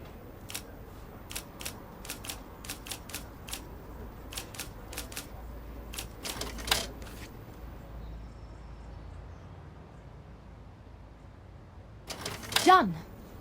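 Keys clack on a typewriter in a video game as an article is typed, a quick run of sharp taps that fades into quiet, then ends with a short mechanical rattle.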